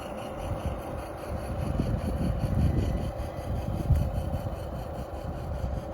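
An HG P802 RC Oshkosh HEMTT truck with an upgraded brushless motor drives in low first gear, giving a steady, rough mechanical whir and grinding rumble, fairly close and continuous, with no talk.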